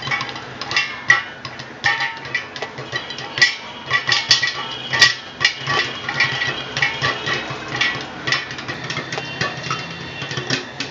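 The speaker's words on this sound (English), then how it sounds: "This popping up noise is like music to my ears." Popcorn kernels pop inside a covered pot on a stove, a busy scatter of sharp little pops and taps against the lid, fairly close and continuous.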